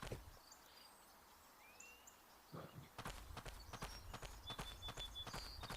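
Horse hooves clip-clop in a video game set in the wild, starting as faint scattered thuds over soft ambience, then becoming a quick, close, regular trot for the last few seconds.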